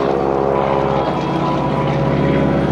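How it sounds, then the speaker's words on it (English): Loud droning engine of a vintage propeller plane roaring steadily during a victory roll at the 2014 NAS Oceana Airshow, its pitch wavering and sputtering slightly with a small blip as it maneuvers overhead. "You hear that little blip in the engine."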